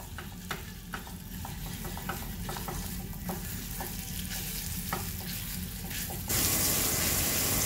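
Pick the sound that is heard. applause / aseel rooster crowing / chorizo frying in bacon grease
chorizo frying in bacon grease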